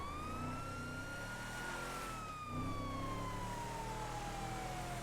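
Ambulance siren in a GTA roleplay game, a steady loud wail sweeping slowly up and down over continuous engine and traffic noise, with a brief dip midway and no talking.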